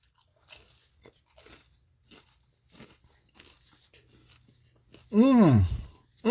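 Biting into a hot, crispy Jamaican saltfish fritter gives a few soft crunches and mouth sounds, then one loud, close crunch near the end, with quiet vocal sounds.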